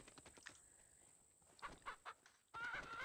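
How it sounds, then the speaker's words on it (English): Clucking chickens in the Pacify video game, chased around a farm; faint, scattered bursts of clucks that swell into a louder cackle at the end. "Chase the chickens."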